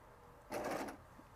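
A serger sewing machine runs in one short, close burst of about half a second, stitching decorative ribbon over a cord laid in the presser foot channel, with quiet before and after.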